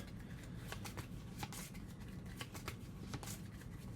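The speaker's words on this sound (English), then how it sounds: "So we'll shuffle these up." Terraforming Mars board game cards being shuffled by hand, a steady run of crisp riffling and flicking bursts at close range with no talk.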